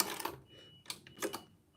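A sewing machine stitches back and forth over the same seam line on a customer's order, in a few short, quiet bursts with brief pauses between.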